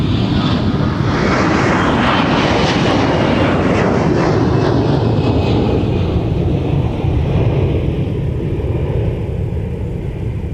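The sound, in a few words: Delta Airlines Airbus A321 jet taxiing, flight 756 to San Francisco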